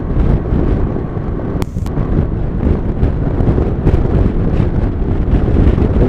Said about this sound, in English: Think they'll be going on quicker than that with this wind.